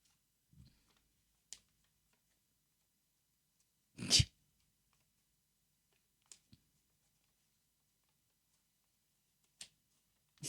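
A single short, sharp sneeze bursts out in otherwise near silence, surrounded by a few faint clicks and small noises.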